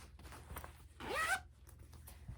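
A zipper pulled across a fabric cross-stitch project bag with a red zipper, one quick rasping zip of about half a second, close and clear against a quiet room.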